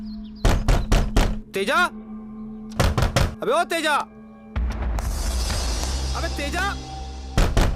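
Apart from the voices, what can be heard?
knocking on a door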